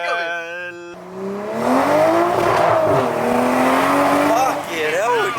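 A tuned Toyota A90 Supra making around 400-plus horsepower accelerates hard, its loud exhaust rising and shifting in pitch through several surges, close and sustained, with excited voices talking over it inside the car.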